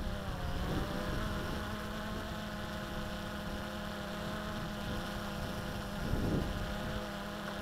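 A Wltoys V303 GPS quadcopter drone climbs outdoors with a steady, droning electric-motor whine, faint and distant, with a brief swell near the end.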